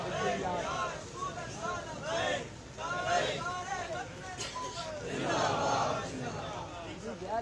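A crowd at a Milad religious gathering chants slogans in loud, rhythmic call-and-response bursts, many voices shouting together in a reverberant space.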